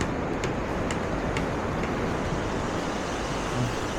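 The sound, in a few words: sea waves at a beach in Dibut Cove, Aurora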